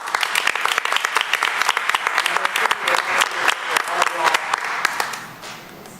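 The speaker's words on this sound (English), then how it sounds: "We'll give you an applause." Audience applause at a city council meeting, a dense, steady burst of many hands clapping that fills the room for several seconds, then tapers off near the end.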